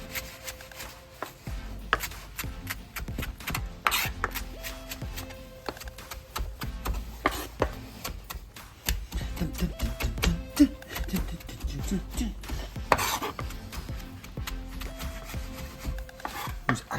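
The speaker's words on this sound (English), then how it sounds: "I'm gonna get mincing." A knife rapidly minces ingredients for tomato chutney on a cutting board, making steady, close rhythmic chopping taps that continue with brief breaks.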